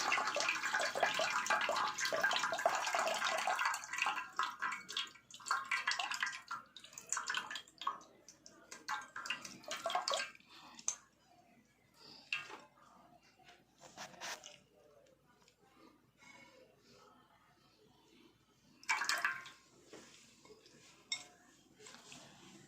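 Tamarind water is strained, pouring and splashing into a metal pot with clinking and scraping, then drips and occasional rattles as the flow tapers off.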